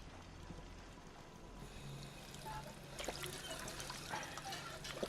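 Water is collected from a water source in Fallout 4 survival mode, a faint, steady trickling and pouring wash that swells slightly partway through and continues quietly to the end.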